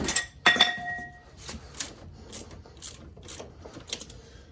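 A ratchet and socket work on a brake caliper bracket bolt of a 2003 Chevy Malibu, giving a series of sharp metallic clicks and rasping turns at close range, with a brief clank near the start.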